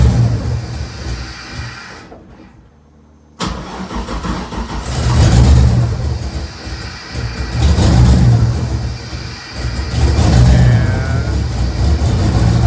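A Toyota FRS race car with an LS V8 swap runs close by, its engine firing up after a brief quiet gap and then rumbling loudly with repeated revs and surges.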